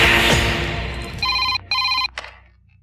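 Noisy rumble fades, then a telephone bell rings in two short bursts with a brief gap, fairly loud and close.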